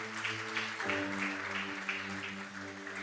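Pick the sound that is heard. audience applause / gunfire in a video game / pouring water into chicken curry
audience applause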